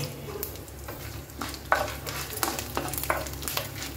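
Curry leaves and coriander seeds sizzle in hot oil for a tempering while a spoon stirs, with a steady crackle broken by scraping and a few sharper pops and clinks.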